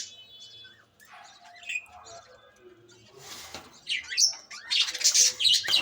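Lovebirds and their chicks chirp and squawk in a quick jumble of sharp, high calls, sparse at first and growing louder and busier toward the end.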